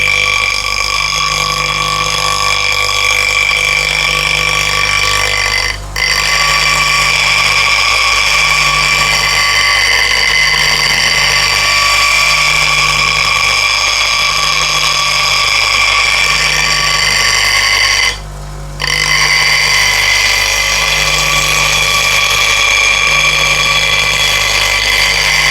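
A tool is sharpened on a CBN grinding wheel, giving a loud, steady motor hum with a rhythmic low pulsing and two brief breaks as the blade is lifted from the wheel.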